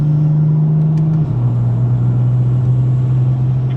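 A 600 hp BMW M4 cruising uphill in fourth gear at about 2000 rpm on the Genting Highlands road, giving a steady, loud, low engine drone that dips slightly in pitch partway through, with no talking.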